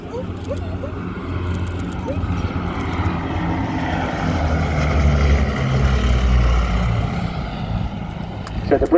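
Bristol Blenheim with two Bristol Mercury radial piston engines flying at an airshow, a steady loud propeller drone that swells slightly as it passes, under a commentator's voice over the public address.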